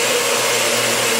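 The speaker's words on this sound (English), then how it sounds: "And we'll just mix that up in my NutriBullet." A NutriBullet blender whirs steadily at close range, mixing tablets into homemade dog food in one loud, continuous broadband motor roar with no pauses.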